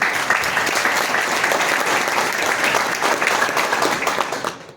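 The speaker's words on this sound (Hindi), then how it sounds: "एक बार ताली बजाओ मेरे लिए" A room of workshop attendees applauds in a dense, steady burst of many hands, strong and even throughout before tapering off sharply at the very end, with no talking over it.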